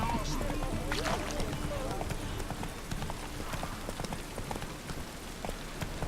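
Roach, a horse in The Witcher 3, gallops with a steady, rapid clip-clop of hooves over a soft hiss like rain. The hoofbeats stay close and even throughout.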